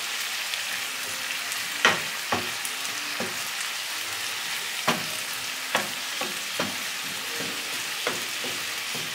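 Red and green peppers frying in a pan for Ecuadorian lomo saltado, a steady close sizzle broken by a few sharp stirring clacks, with no talking.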